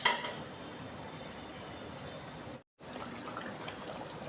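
A thin hilsa fish curry with green chillies simmers in a pot over a village cooking fire, making a steady close bubbling and fizzing hiss that cuts out briefly midway before resuming.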